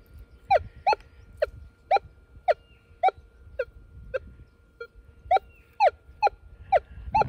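Repeated target tones from a Minelab Equinox 800 metal detector while gold hunting on the Victorian goldfields, about fifteen short chirps in uneven pairs and runs, fairly close, with faint rustling underneath and no talking.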